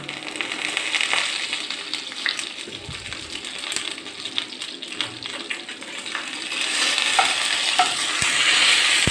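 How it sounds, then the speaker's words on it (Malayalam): Loud, continuous sizzle of dried chillies frying in hot oil, with occasional stirring clinks, the crackle swelling toward the end. "പിരിയമുളകൊന്ന് വറുത്ത് വെക്കാമെന്ന് വിചാരിച്ചു."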